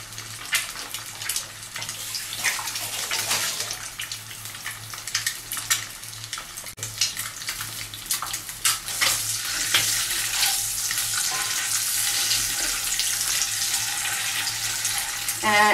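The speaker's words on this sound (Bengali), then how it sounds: "ভালো করে একটু লাল লাল করে ভাজতে হবে" Chicken stew ingredients fry in a pan with a steady, busy sizzle and crackle throughout, growing slightly louder in the second half, with occasional clinks and scraping of a utensil.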